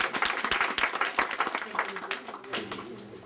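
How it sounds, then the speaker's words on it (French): An audience at a conference applauds, a burst of many hands clapping at once that thins out and fades, with a voice speaking over the tail end. "J'ai juste besoin d'applaudissements si vous êtes d'accord."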